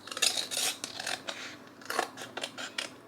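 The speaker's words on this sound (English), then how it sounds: "I am going to grab a scissors here, and then I am going to cut" Scissors snip through a rub-on transfer sheet for a glass craft piece, a quick string of sharp, close cuts and paper rustles with brief pauses between strokes.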